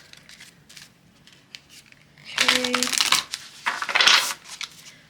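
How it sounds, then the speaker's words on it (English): A tarot card deck is shuffled in two brisk bursts of riffling and flapping cards, close and fairly loud, with a short spoken word between them. "let me give this actually one more shuffle."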